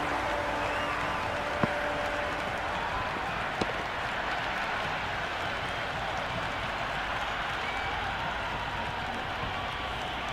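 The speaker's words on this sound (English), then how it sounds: "The crowd are really getting quite raucous." A raucous cricket crowd at a PSL match between Rawalpindi and Peshawar Zalmi roars and cheers continuously, a dense wash of distant noise with a couple of brief sharp knocks and no clear talk over it.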